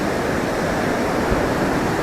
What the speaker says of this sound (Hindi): राकापोची से जो पानी नीचे आ रहा है और उसके बाद जो डैम से पानी आ रहा है